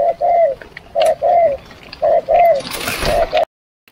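Bird calls ring out in a rice field, a series of short, loud, close chirps in regular bursts, ending with a brief rustling noise before it falls silent.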